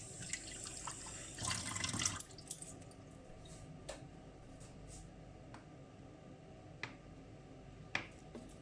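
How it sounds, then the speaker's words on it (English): Two tablespoons of water poured into thick banana bread batter, a short trickle and splash near the start followed by a few faint drips and clicks, quiet and close. "In goes 2 tablespoons of water."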